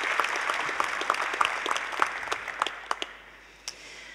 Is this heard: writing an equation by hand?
no